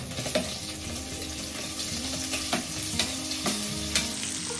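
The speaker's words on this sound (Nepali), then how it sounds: "फर्स्टमा चाहिँ म प्याज र हरियो खोर्सानी हाल्छु" Onion and green chilies frying in a pan for fried rice, a steady close sizzle broken by regular stirring scrapes and utensil knocks about once a second.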